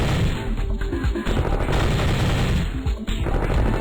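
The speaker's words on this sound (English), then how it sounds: "Just mowing down mass terrorists en masse." Dense, continuous gunfire mowing down enemies in the Flash shooting game Bush Shoot-Out, rapid overlapping shots forming a loud sustained barrage with brief dips in intensity.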